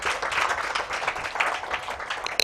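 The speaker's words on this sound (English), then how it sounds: "Can we please get a bigger hand clap for Miriam?" An audience at a women's investment breakfast applauding a speaker, a brief spell of dense hand clapping at moderate level with a few sharp claps at the end.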